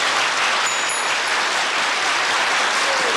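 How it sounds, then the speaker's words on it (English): A studio audience at a 1973 television panel show breaks into loud, continuous applause, a dense wash of clapping that stays steady from start to finish. "they'll applaud every time they see themselves"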